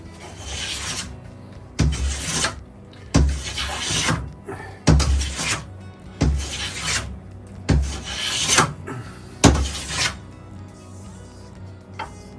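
About eight rhythmic rasping strokes of a hand plane shaving saw marks off wood, each a loud swish followed by a short pause.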